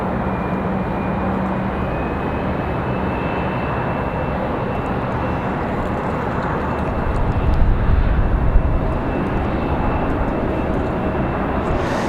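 A JetBlue jet arriving at Raleigh-Durham airport on a flight from San Juan, Puerto Rico, gives a steady, broad engine roar that builds slightly near the end, heard at a distance with no talk over it.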